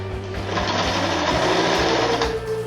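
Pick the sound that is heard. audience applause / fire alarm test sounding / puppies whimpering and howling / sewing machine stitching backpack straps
sewing machine stitching backpack straps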